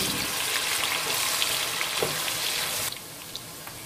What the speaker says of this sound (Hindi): अब प्याज को फ्राई करते हैं